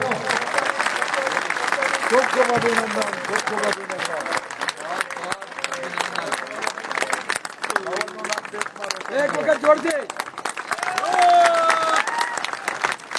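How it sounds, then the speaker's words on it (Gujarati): Audience applause from a crowd at a farmers' rally, steady clapping throughout with voices mixed in. "એટલે તાળીઓ પાડો"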